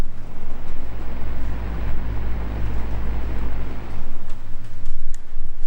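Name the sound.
Ego fan running, recorded close up from behind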